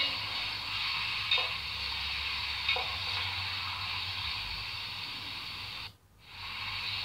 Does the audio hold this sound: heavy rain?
no